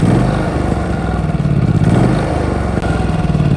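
An Onan P4500i inverter generator runs steadily nearby with a loud, even engine drone and a rough mechanical chatter throughout, and no voices.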